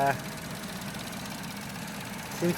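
A Vauxhall Corsa Ecotec engine idles steadily after an oil sump replacement, a low, even hum heard from close by, with brief speech at the start and end.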